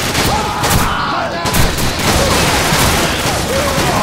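Dense, continuous gunfire with overlapping shots fills a Call of Duty 4: Modern Warfare multiplayer-style firefight, loud and close with no pauses.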